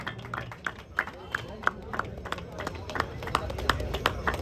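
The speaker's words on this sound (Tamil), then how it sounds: "ஒரு கைத்தட்டல் கொடுக்கலாம்." Scattered, irregular hand claps from a modest crowd at a cricket tournament presentation ceremony, fairly faint and thin, with talking beneath them.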